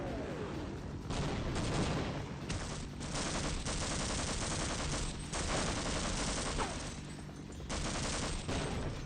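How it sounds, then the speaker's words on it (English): A video game battle with grenade explosions and heavy gunfire: dense, loud blasts and crackling bursts come in rapid succession with brief lulls, filling the scene continuously. "That's a couple of grenades."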